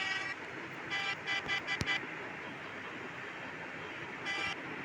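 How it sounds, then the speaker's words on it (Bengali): Horn on an Agmony Scania SKS coach bus sounds in several short honks at a truck ahead on the Dhaka to Rangpur road, one burst around the middle and a longer blast near the end, over steady engine and road rumble. "আমি হর্ন দিচ্ছি,"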